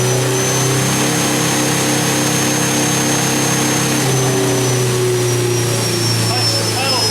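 An electric car accelerating on a test drive, with a steady drivetrain whine and road rumble running throughout while people talk over it inside the cabin.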